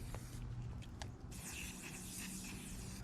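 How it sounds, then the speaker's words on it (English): Bug spray from an aerosol can hissing outdoors on a hike, a faint close spray with a short burst and then a longer hiss over soft outdoor background. "Bug spray is required straight away because I'm getting nibbled"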